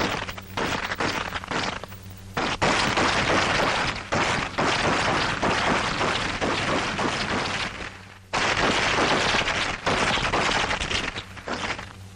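Bursts of rifle and gun fire during close combat firing practice crack out in rapid, loud volleys, densely overlapping and nearly continuous with brief gaps between strings of shots.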